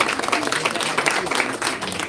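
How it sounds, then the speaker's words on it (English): A live audience at an Innovation Consortium event gives a round of applause for a supporter, a dense, steady clapping texture that fills the clip at moderate loudness with some crowd voices mixed in. "one last round of applause to our dad for supporting this"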